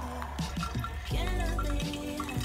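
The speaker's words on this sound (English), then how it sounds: "start to pour our water" Water poured over ground coffee in a pre-wetted filter, starting as a few separate drips and splashes and then turning into a steady, close pour with gurgling near the middle.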